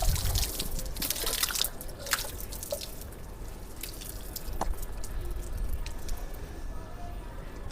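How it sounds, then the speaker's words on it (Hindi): Water trickles and drips during a nasal rinse cleaning in a yoga studio, a few scattered close drips and splashes over a soft, steady background wash. "अब ये होने के बाद इसको हम नॉर्मल पानी से क्लीन कर देंगे।"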